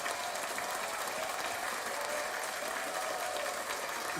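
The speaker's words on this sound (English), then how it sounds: "round of applause to you guys" A canned applause effect triggered by a button, a steady, dense bed of clapping and crowd noise holding evenly for a few seconds at moderate level.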